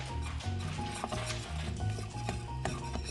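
A spoon stirs a thick cheese sauce of Parmesan, Gruyere and Cheddar in a pot over a gas flame, making repeated scraping and clinking strokes against the metal, close up and continuous, with a low sizzle beneath.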